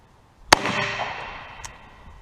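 A Taurus .44 Magnum revolver fires a single loud, sharp report from a rest at an outdoor range, followed by a long rolling echo and a faint distant pop about a second later.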